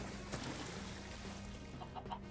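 A chicken in a video game clucks quietly over a low, steady background, with a few short clucks standing out near the end.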